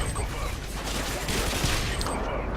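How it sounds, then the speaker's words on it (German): Gunfire in Call of Duty Modern Warfare 3, a dense, continuous burst of shots and battle noise filling the whole short stretch, loud and close with no pauses. "Einfach mal ein bisschen auf alle Leute schiessen"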